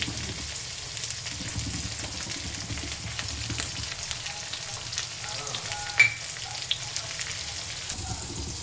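Onions and green coriander leaves sizzle in a pan for a village-style chicken sambar, a steady close frying hiss with occasional stirring clicks and scrapes.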